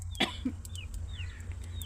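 A single sharp cough, followed by a softer throat sound, in a quiet setting with faint birds chirping in the background.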